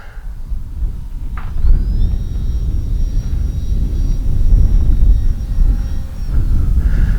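An FMS PA-18 Super Cub RC airplane drones steadily overhead after a short takeoff, its electric motor whine holding a sustained pitch and sliding as it passes, loud and close over a rumbling outdoor wind background.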